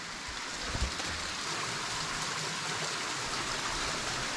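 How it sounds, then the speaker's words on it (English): Water flows down an inclined shaft in a large old mine, a dense continuous rushing and gushing roar that stays steady and loud throughout with no voices. "Lots of water going down there."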